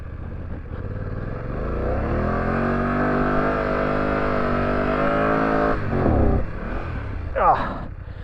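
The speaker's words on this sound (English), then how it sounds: "Now I can ride in the sand" A BMW F900GS motorcycle engine runs steadily as the bike rides through deep sand with rear ABS off, a sustained close drone with a brief surge near the end, while someone talks over it.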